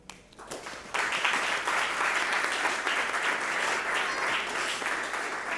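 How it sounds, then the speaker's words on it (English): A large audience at a European medicine awards ceremony bursts into applause after a brief quiet moment, then keeps up loud, dense, sustained clapping through to the end. "This big round of applause is for all of you."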